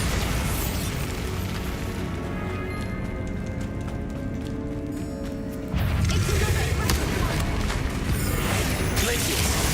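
Bombarda spell blasts in Hogwarts Legacy burst out amid constant combat noise, with a louder explosive surge partway through, and a voice talks over them.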